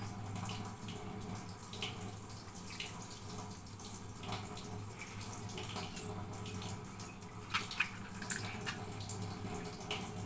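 Tap water runs steadily from a household faucet as someone washes at a sink, a continuous close hiss and splash holding at an even level with no voices over it.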